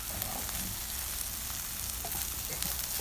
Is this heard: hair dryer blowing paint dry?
no